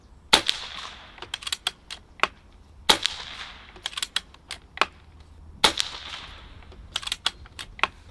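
Barra 250z air rifle firing pellets at 30 yards in a backyard, in three sharp snapping shots spaced a few seconds apart, each followed by quick mechanical clicks of cocking and loading.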